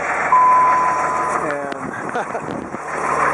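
A Dodge Ram 3500 with a Cummins diesel engine idles steadily as it warms up after starting, a continuous low rumble that stays close and fairly loud with some light clatter, and no talking over it.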